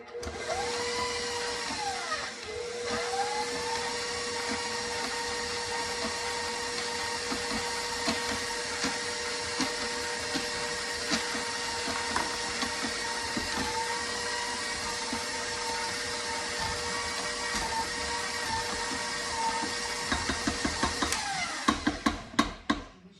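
An electric hand mixer whirs steadily through banana bread batter in a home kitchen, a loud, sustained motor whine with a brief dip in speed early on and some rattling clicks as it winds down near the end.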